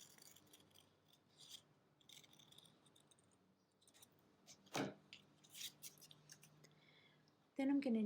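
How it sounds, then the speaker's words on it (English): Scissors cutting a paper circle for a paper sculpture, quiet intermittent snips and paper rustles spread across a hushed room, with one louder crisp handling sound near the end. "And I'll cut out my circle."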